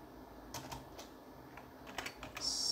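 Someone types a letter on a computer keyboard in a bare-bones MS-DOS text editor: a handful of soft, close keystrokes in an uneven rhythm over quiet room hiss.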